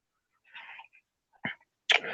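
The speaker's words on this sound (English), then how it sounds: "Allergies fucking with me, my bad. Sneeze and shit." An allergy sneeze comes as a short, sharp burst, followed by a second, louder sneeze, each separated by quiet.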